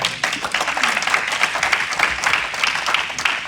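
A church congregation applauding in praise during a French-language sermon, steady clapping from many hands throughout with a faint voice underneath.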